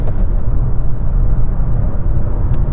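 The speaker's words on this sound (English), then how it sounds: "Come on, little engine, it's working hard." Suzuki Swift accelerating hard from a standstill after a wheel-spinning launch, a loud, steady low engine drone with road rumble that holds for the whole stretch, no speech over it.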